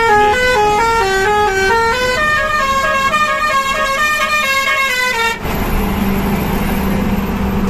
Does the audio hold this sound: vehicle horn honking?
yes